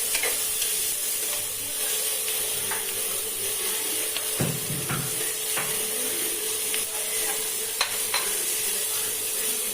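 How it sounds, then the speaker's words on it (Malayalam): Vegetables sauteing in a pan, a steady close sizzle with scattered scrapes and knocks of a utensil stirring, including a brief heavier clatter midway, no voices. "അതൊന്ന് നന്നായിട്ട് വഴറ്റി കൊടുക്കുക"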